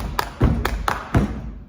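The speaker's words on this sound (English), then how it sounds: "2 claps in between each foot." Body-percussion pattern of foot stomps with two hand claps between each, heard as low thuds alternating with sharp claps in a steady, fairly close rhythm.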